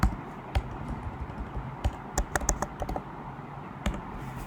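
Someone types on a computer keyboard with a quiet, uneven patter of light keystrokes, including a few sharper clicks in irregular bursts. No one speaks.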